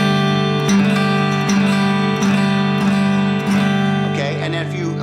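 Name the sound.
guitar playing a suspended 2 chord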